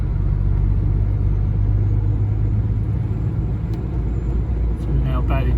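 A truck drives along a snowy motorway in Kent, England, its engine and road rumble loud and steady throughout, with no pause in the low drone.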